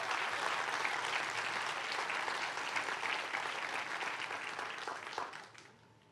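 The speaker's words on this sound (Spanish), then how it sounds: "Denle un fuerte aplauso a Dios." Church congregation applauding at a Spanish-language sermon, a steady dense wash of many hands clapping that holds loud throughout, then thins and fades out near the end.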